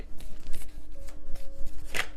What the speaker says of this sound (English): While I was shuffling